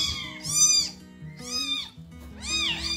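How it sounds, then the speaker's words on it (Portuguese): Orphaned kittens meowing, three high, wavering cries in succession, close and fairly loud with short pauses between them. "E aqui nesse meio coloco os gatinhos."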